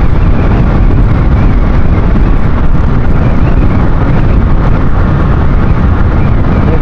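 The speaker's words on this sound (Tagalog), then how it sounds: "Malakas nga lang yung hangin ngayon." Strong seaside wind roars steadily into the microphone for the whole stretch, a loud, unbroken rumbling buffet with no pauses or clear distinct events.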